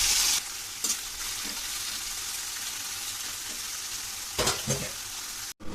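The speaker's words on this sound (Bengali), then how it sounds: "এবার মোরলা মাছগুলো ভেজে নেব" Small mourala fish fry in hot mustard oil with a steady, close crackling sizzle, broken by a few brief louder spatters and clatters near the end.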